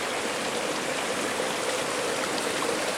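A mountain stream rushes along the Long Trail on Mt. Mansfield, a steady, dense, unbroken wash of flowing water close by with no voices.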